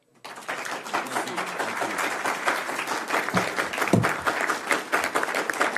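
An audience at a congressional briefing on human rights and democracy in Iran breaks into steady applause welcoming a congressman, a sustained wash of many hands clapping that begins abruptly and continues throughout.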